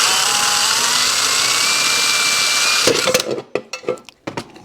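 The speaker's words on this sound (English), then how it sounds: "Okay, get this drilled through" A power drill with a hole saw cuts a 2 1/4 inch hole in a Yamaha 250MX air box. It whines loudly and steadily for about three seconds, then breaks into short bursts and clatter as the cut finishes.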